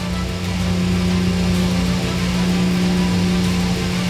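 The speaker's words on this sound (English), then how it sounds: "and then we start to accelerate. When the rotor reaches the right RPM, we take off automatically" A PAL-V Liberty flying car accelerating for takeoff, a steady loud engine and rotor drone with a strong constant hum, close and continuous for the whole stretch.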